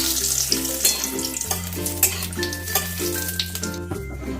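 Whole spices (bay leaf, dried red chillies, cinnamon, cloves and cardamom) crackling in hot oil in a kadai, with a steady close sizzle broken by rhythmic stirring clinks and scrapes.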